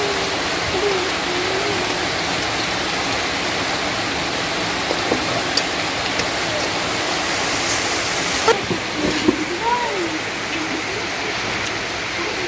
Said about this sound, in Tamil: நம்ம இப்போ வந்து வாழைக்காய் பஜ்ஜி போட ஸ்டார்ட் பண்ணியிருக்கோம்